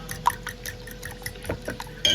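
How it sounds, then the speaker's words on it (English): Eggs being whisked with a splash of water in a bowl for a French omelette, a quiet run of light, irregular liquid clicks and sloshes with no talking. "Continue whisking."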